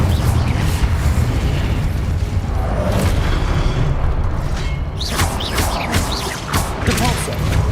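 In the Hogwarts Legacy video game, the Incendio fire spell goes off as a loud, booming burst of flame with a rushing roar that lasts for several seconds, followed by a few sharper crackling pops.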